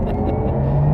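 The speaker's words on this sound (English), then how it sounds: "I'm going to step off the brake. First launch control" A Porsche Taycan Turbo electric car launches under launch control, a loud, close whirring surge from a standstill with a rising tone that climbs steadily as it pulls away.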